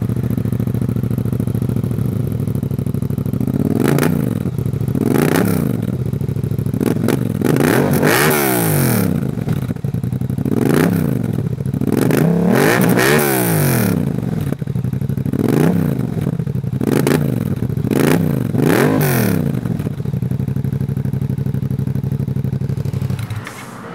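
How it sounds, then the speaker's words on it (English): A motorcycle with a 270-degree crossplane crank and a Leo Vince full-system exhaust with the baffle in revs repeatedly, each loud throttle blip rising and falling in a steady series over a constant idle, close to the microphone. "This bike also has a Leo Vinci full system exhaust with the baffle in."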